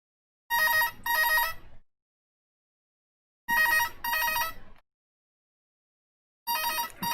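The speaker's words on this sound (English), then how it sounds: "The phone never rings and today it's so slow." Telephone ringing in repeated double bursts, three rings spaced about three seconds apart, loud and close with silence between, no talk.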